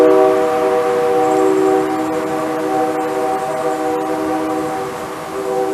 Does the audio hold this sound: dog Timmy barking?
no